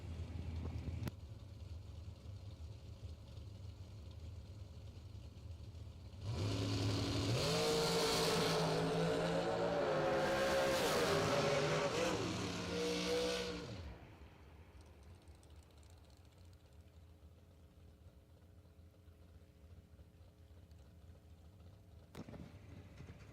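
An M&M chassis dragster roars down a drag strip during bracket racing, a loud sustained engine blast that rises in pitch for several seconds, then cuts off abruptly, leaving quiet background rumble.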